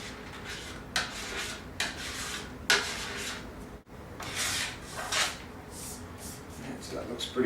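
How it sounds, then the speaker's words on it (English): A plastic scraper strokes cleaning wax off a flexed ski in repeated rasping passes, about one per second, close and fairly loud, with a short pause midway. "You can feel on the scraper where you're getting enough pressure and where you're not."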